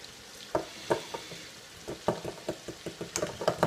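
Sausage chilli casserole mix being stirred with water in a jug, a run of soft knocks and sloshing scrapes at an uneven rhythm, close and fairly quiet.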